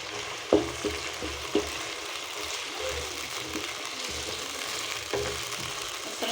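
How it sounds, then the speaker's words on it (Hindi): Garlic-ginger paste hits chicken already frying in a karahi pan, setting off a steady close sizzle with a few sharp knocks from a spoon stirring the pot, and no voices. "अब मैं डालूंगी इसमें ये लहसुन अदरक का पेस्ट।"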